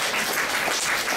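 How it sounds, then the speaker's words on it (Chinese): Dense, loud applause from a school audience at Songshan High School in Taipei welcoming a guest speaker to a literature lecture, a short continuous burst of many hands clapping together. "我们用最热烈掌声来欢迎大家"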